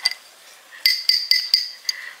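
A glass ghost-shaped cup clinks sharply four or five times in quick succession, bright ringing taps close by, with a faint last tap after a short pause.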